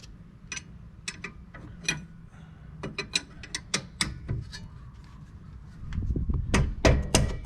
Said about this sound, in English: Removing the two caliper bolts.